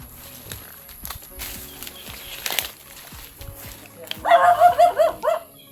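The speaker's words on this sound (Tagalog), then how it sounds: "Ay, may aso." A dog barks several times in a quick series near the end, after quieter rustling and scattered knocks.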